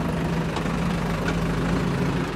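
A tractor idles at a Tochan tractor tug-of-war tournament in Kasni, Jhajjar, making a loud, steady low rumble that continues unbroken throughout.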